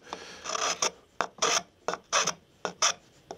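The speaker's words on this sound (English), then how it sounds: "So I just give it a little rub, both sides. You're really just even smoothing out the saw marks." A wooden dovetail joint being rubbed smooth of saw marks, a series of about eight short, close raspy strokes in an uneven back-and-forth rhythm, crisp and alone.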